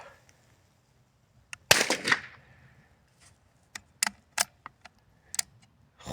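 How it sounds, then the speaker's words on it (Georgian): A Hatsan Escort .22 LR fired at an outdoor shooting range: one sharp close shot with a short tail, then several quick lighter cracks and clicks in an otherwise quiet setting. "და იქვე გააკეთე გასროლა."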